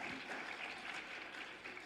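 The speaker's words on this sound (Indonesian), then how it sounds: "Tepuk tangan untuk sekolah Islam Atira" Applause at a school graduation ceremony for SMP Islam Athirah 1 Makassar, a faint, steady wash of clapping from a distant crowd.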